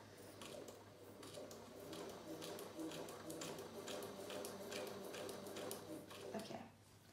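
A domestic sewing machine running slowly while stitching fabric for a beginner's fabric bucket, a steady fairly loud mechanical whir with soft regular ticks that stops abruptly near the end.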